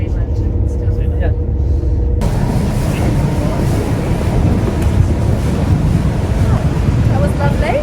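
Steady, loud rushing of ocean waves and wind buffeting the microphone during a choppy boat ride near Sydney, with engine rumble underneath and faint voices in the background.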